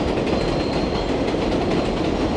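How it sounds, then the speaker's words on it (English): A New York City 7 line subway train passes with a loud, continuous roar of wheels on rails, an unbroken heavy rumble with light clatter throughout. "you can see trains going from both directions"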